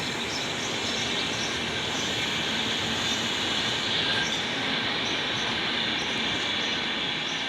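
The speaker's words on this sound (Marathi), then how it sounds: "बघा तेजस एक्सप्रेस" The Tejas Express passenger train rolls past nearby, a loud, continuous rumble of wheels on rails with a faint metallic squeal throughout, heard from a rooftop terrace with no talking.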